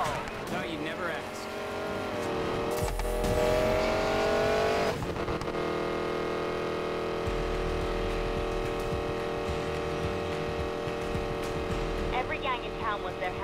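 A car races at speed along a road in Need for Speed Payback on PlayStation 4, its engine roaring loud and continuous, pitch climbing and dropping through gear changes with a brief rushing swell midway.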